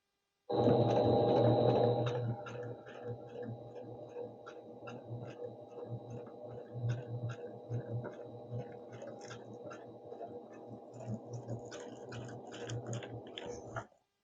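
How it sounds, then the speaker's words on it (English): Sewing machine triple-stitching a torn spinnaker sail, a fast rhythmic mechanical clatter with regular ticking needle strokes that runs steadily, close and fairly quiet, after a brief louder burst at the start. "I'm going to switch to triple stitch, and then I'm going to start triple stitching."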